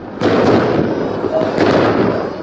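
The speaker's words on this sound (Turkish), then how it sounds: "Polise havai fişek ve molotof atıldı." Fireworks thrown at police during a street protest in Nusaybin, Mardin, a loud sudden crackling burst that stays dense and roaring, with a second sharp pop near the end amid crowd noise.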